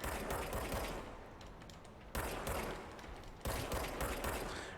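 Rapid bursts of gunfire from a handgun in the video game Control, three loud sustained volleys separated by brief gaps, crackling and dense with no talk over them.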